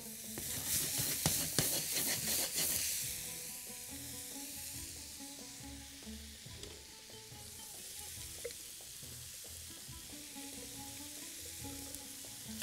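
Onion frying in Egyptian country ghee in a pan, a steady close sizzle with stirring scrapes, louder and busier for the first few seconds then settling into an even crackle without talk.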